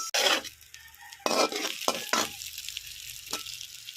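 Sautéing salmon with garlic, onion and a little ginger: there is sizzling in a hot pan, broken up by several sharp bursts of stirring and scraping from a utensil.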